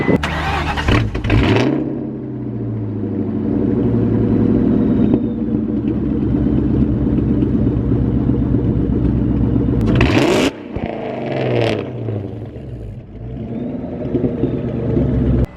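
A supercharged Ford Mustang GT engine cranks and fires up with a loud burst, then settles into a deep, rumbling idle, revved sharply once before idling again.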